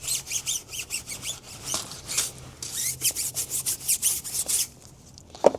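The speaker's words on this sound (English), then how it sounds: "I'll just go back through with our alkaline and I'll give that tire another quick scrub." A brush scrubs a car tire with alkaline cleaner in quick rhythmic back-and-forth strokes, close and scratchy, briefly pausing before a few final rubs.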